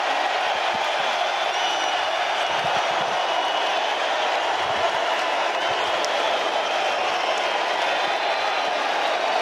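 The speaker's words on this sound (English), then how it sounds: "Listen to that crowd." A large arena crowd at a wrestling championship in the Wells Fargo Center roars and cheers continuously, a dense, steady wall of noise with no break.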